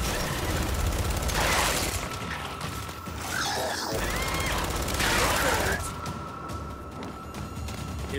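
A frag grenade blast and heavy gunfire in the Gears 5 video game: loud, dense bursts of shooting and mechanical clatter fill the scene, with short gaps between them and voices under the din.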